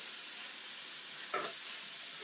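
Lamb crumble filling with wine, salt and pepper cooking in a pan, a soft continuous sizzling hiss at low level with a brief slightly louder bubbling burst partway through.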